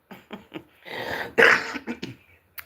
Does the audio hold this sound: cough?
yes